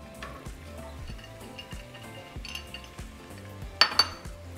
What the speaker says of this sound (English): once our butter has melted, we're going to throw in all of our diced vegetables